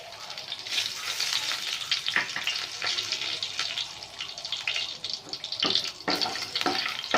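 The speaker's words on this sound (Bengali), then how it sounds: "দেখুন, এবার আমি একই তেলে একটা তেজপাতা, 4টে ছোট এলাচ আর একটু সাদা জিরে ফোড়ন দেব।" Bay leaf, small green cardamom pods and cumin seeds crackle and sizzle in hot oil left from frying fish, a steady close frying hiss with sharp pops and a few stirring knocks, no voices.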